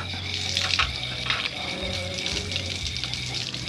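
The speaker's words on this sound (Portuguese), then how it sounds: "Que eu vou lavar na torneira ao lado aqui do quiosque onde a gente tá" Tap water running beside an outdoor kiosk for washing cabbage leaves, a steady close splashing gush that continues throughout.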